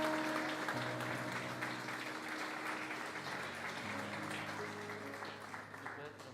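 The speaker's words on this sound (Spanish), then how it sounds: "Den un aplauso al Señor." A church congregation claps during a worship service. Steady, moderate applause plays over sustained musical tones and gradually fades.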